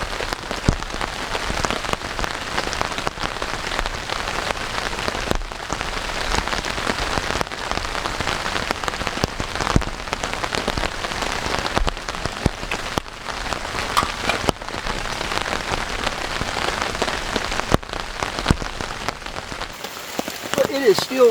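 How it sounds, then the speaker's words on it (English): Heavy rain pours down at a winter campsite with a military surplus tent, a dense, steady drumming patter on canvas and surroundings that stays loud and continuous with no voices. "It is still raining"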